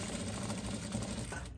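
A sewing machine backstitches a seam on a cowl bubu garment, running as a steady continuous whir throughout the short stretch, close and fairly quiet with no talking.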